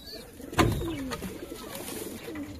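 Pigeons in a loft, including a Surati male, give soft, throaty coos, one clear rolling call near the start and quieter murmurs after it, over a low hum of room noise.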